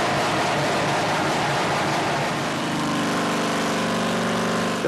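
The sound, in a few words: nitro-injected V-twin drag bike engine running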